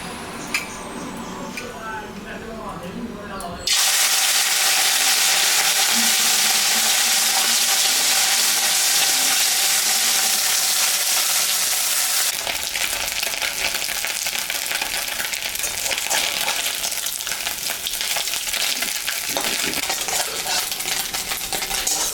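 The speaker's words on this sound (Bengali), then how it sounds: "তেলও গরম হয়ে গেছে, আমি এখন মাছে লবণ দিলাম, হলুদ দিলাম। মাছটা আমি এখন ভাজবো।" Whole fish seasoned with salt and turmeric dropped into hot oil in a home kitchen, bursting into a loud, steady, dense sizzle that holds for most of the clip after a quieter opening with light clatter and a voice.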